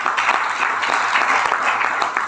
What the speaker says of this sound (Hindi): उनके लिए जोरदार तालियां होंगी।